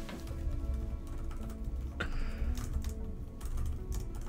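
Typing on a computer keyboard: scattered quick key clicks and taps at an uneven pace over a steady background hum, with no speech.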